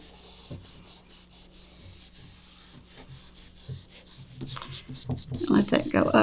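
Paper carrying an abstract drawing rubbed by hand, a soft repeated scraping that grows louder and denser toward the end, with a little talk.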